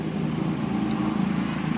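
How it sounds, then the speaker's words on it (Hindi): Distant road traffic rumbles steadily past on a highway next to a forest, a low continuous wash of vehicle noise with no distinct individual passes. "आप गाड़ियों का आना जाना सुन सकते हैं।"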